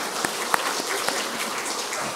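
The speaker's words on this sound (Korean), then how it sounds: "박수 한번 쳐줍시다." Audience applause in a church hall at an autumn revival meeting, a short stretch of steady, even clapping from a crowd.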